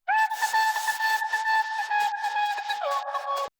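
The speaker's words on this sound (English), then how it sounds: "It sounds to me just like a simple sine wave." Simple sine-wave synth lead with portamento from a remake of a synth, a steady pure whistling tone amid hissy noise, gliding to a new pitch near the end before cutting off.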